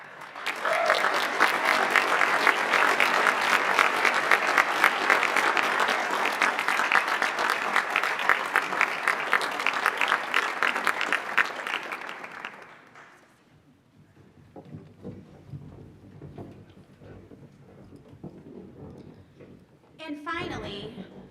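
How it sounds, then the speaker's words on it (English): Audience applause for school staff at a 2023 district graduation ceremony, a long, steady round of clapping that dies away after about twelve seconds into quieter room sounds and a brief voice. "let's give them a round of applause"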